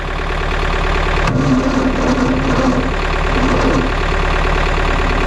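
A John Deere 4066 tractor engine cranks and catches on a cold snowy morning with a weak battery, then settles into a loud, steady diesel idle heard up close.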